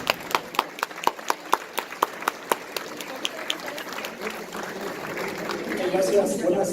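Applause welcomes a speaker at a real-estate leasing talk. It starts as a few distinct, evenly spaced claps and swells into a fuller, denser round of clapping with some murmur underneath.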